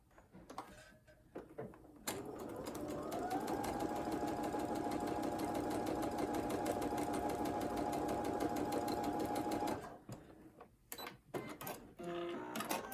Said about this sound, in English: And I'm just going to sew that down as well.